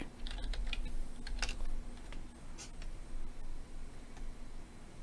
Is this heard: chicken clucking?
no